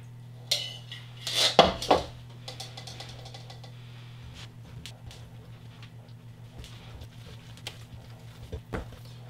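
Wet cookie dough ingredients are stirred into dry ones in a bowl, with a few sharp clinks of utensil against the bowl early on, then softer scraping and patter continuing quietly.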